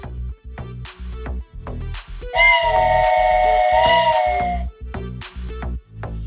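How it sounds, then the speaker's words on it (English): A long, steady steam-style whistle sounds for about two seconds in the WWE 2K24 wrestling video game, rising out of rhythmic low crowd and arena thumps that pulse on either side of it. "That was a solid whistle."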